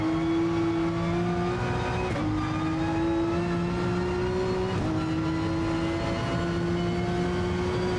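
Race car engine in Gran Turismo Sport held at a steady high drone with harmonic whine, dropping in pitch at two quick gear shifts while short shifting for drive out of a corner, continuous and loud with no talk.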